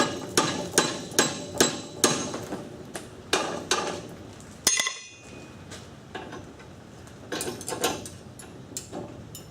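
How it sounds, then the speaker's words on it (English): Sharp metallic hammer blows ring out in irregular bursts as a blacksmith opens up hot metal, several quick strikes then pauses, close and clear. "you can always take your hammer, start hitting"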